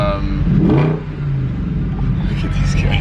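A Maserati engine roars from inside the car as it accelerates hard on the road, a loud, deep, steady rumble with a rising growl, while voices talk over it.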